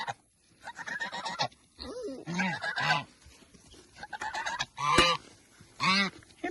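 Geese honk in several separate bursts, nasal and close, with short quiet gaps between the calls.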